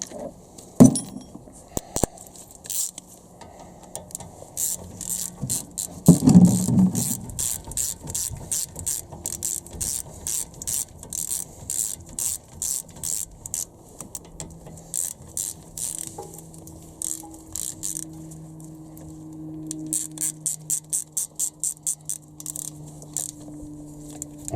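A ratchet wrench with a 12 mm socket works the front brake bolts on a Honda Civic Type R with a K20 engine, giving long runs of quick, close clicking and metallic clinks, pausing briefly and resuming.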